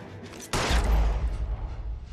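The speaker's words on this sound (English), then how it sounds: "Oh shit, I accidentally shot him." A single loud gunshot goes off in the L.A. Noire video game after a short quiet lead-in, followed by a low booming rumble that fades out.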